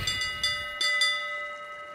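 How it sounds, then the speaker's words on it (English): A ship's bell rings in Sea of Thieves with four quick metallic strikes, each leaving a ringing tone that slowly fades. "That boy ringing the bell."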